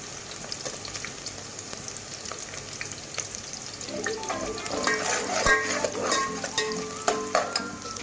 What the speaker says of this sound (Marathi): व्यवस्थित परतून घेऊया आपण. आणि त्याबरोबरच लसूण घालूया.